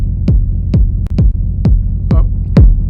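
Rumbling kick drum from an Elektron Analog Rytm drum machine in a techno jam, six loud, punchy thumps in a steady pulse with a deep droning tail between hits, no voices.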